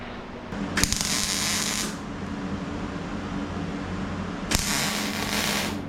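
Tack welding on a car body panel, laid down slowly to keep the piece from warping: two separate bursts of harsh crackling buzz stand out over a steady shop hum, each about a second long.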